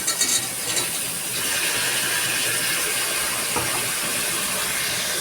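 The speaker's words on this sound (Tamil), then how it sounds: "இப்போ வந்து பார்த்திங்கன்னா கட் பண்ணி வச்சுக்கிற ஒரு பாக்கெட்டு மஷ்ரூம் வந்து ஆட் பண்ணுறோம்" Sliced mushrooms from a packet tossed into onions deep-frying in hot oil, giving a steady, loud sizzling hiss. A brief clatter at the start settles into a continuous fizz with no talk.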